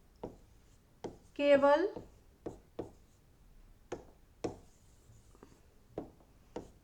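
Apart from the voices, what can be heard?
writing on a board during a math class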